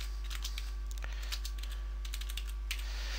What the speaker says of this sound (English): So let's type in there, how about topic of essay?